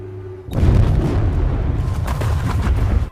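Explosive blasts rip through frozen, ice-block-like ground in a monster film, a sudden loud boom followed by heavy rumbling debris and roaring low-end that sustains for about two and a half seconds before cutting off.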